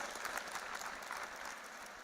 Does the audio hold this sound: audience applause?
yes